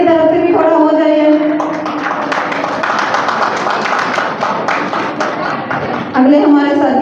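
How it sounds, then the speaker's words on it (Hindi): An audience at a school alumni get-together claps steadily, a dense sustained patter that swells in the middle while a voice speaks over it at the start and end. "तालियों की आवाज गूंजती रहे।"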